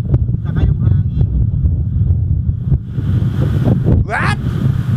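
Heavy wind buffeting an action camera's DIY microphone adapter outdoors, a loud steady low rumble throughout, with a voice speaking under it.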